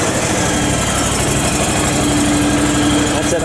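A John Deere X485 lawn tractor engine idles steadily close by, a constant rumbling drone with a faint whine, running alone without talk.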